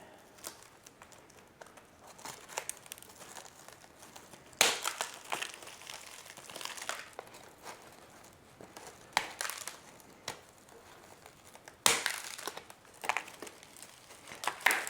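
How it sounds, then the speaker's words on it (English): Garden shears crunch and crack a plastic plant pot during repotting of a Monstera Mint, irregular close crushing and snapping sounds with a few louder cracks amid quieter crinkling. "Let me see if these shears can break through this. I did crack it a little bit."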